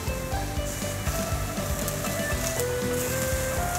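King oyster mushroom slices fry slowly in a pan, giving a steady, close sizzle that runs throughout with soft music underneath.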